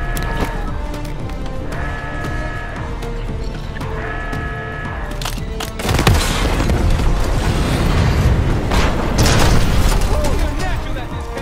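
Missile explosion in Call of Duty Black Ops 6: after a stretch of game noise, a loud booming blast erupts and rumbles on with crackling debris and further bursts.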